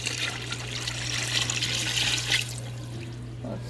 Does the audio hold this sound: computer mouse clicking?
no